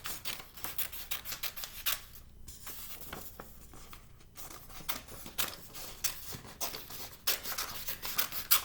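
Scissors snip through strips of paper in quick, steady repeated cuts, close and fairly quiet, with no talking.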